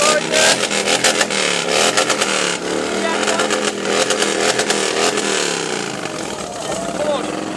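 A loud Harley-Davidson motorcycle exhaust revs repeatedly in sharp bursts at a bike week loudest-exhaust contest, with a crowd talking and shouting over the engine throughout.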